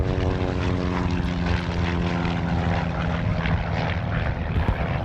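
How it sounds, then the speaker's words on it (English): A propeller aircraft's engine drones loudly and steadily close by as the plane powers up for takeoff, with a strong continuous hum and no voices. "You are cleared for takeoff."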